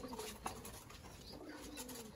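Pigeons coo softly in a loft, with faint, low, rolling calls over a continuous background hiss.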